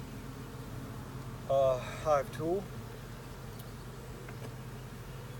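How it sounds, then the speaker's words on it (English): Honey bees jammed into a swarm trap, a low steady buzzing hum running throughout beneath a brief spoken phrase from a beekeeper. "You've got a lot of bees in here, they're jammed in there"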